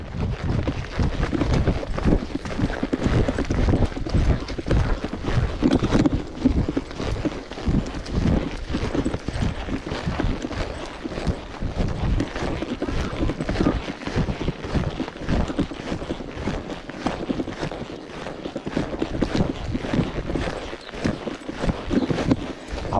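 Steady, rapid clip-clop of a mare's hooves on a vaquejada track as she is warmed up, a close, continuous trotting rhythm with some wind rumble in the background.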